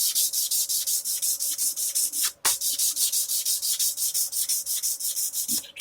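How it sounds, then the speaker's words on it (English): Guitar frets are rubbed with 600 grit sandpaper in steady back-and-forth strokes, a rhythmic close scratching with one brief pause midway and no talk. "just going to go over the top of these frets again with some 600."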